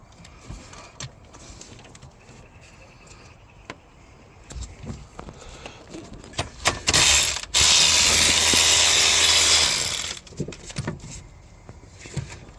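A VW Polo Mk2F wheel spun by hand with the 4- and 5-speed gearbox turning, a close clicking mechanical whir that builds into a loud sustained grinding rush before dropping back to scattered clicks.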